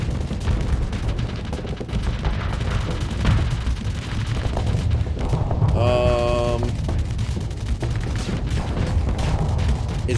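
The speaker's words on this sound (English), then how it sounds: "Oh no, that's a lot of rockets." Rocket barrages in the Starsector space combat game, a steady roar of rapid launches and impacts filling the whole stretch, with a brief chiming game tone near the middle and a voice talking over it.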